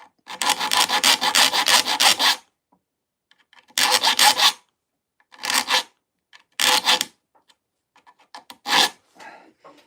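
A hand file rasps across the teeth of a saw blade being sharpened. The close, gritty strokes come in bursts: a long run of quick back-and-forth passes, then shorter groups separated by silence.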